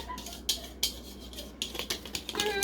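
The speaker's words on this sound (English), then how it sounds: "We're going to mix those dry ingredients together." A utensil scrapes and clinks against a bowl while dry ingredients, including cayenne and black pepper, are stirred together, giving soft irregular taps and scrapes, close and fairly quiet.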